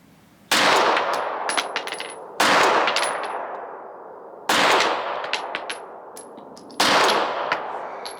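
Four loud, sharp Glock pistol shots at an outdoor shooting range, spaced about two seconds apart, each cracking and then ringing out in a long decaying echo, with faint metallic pings from the target between shots.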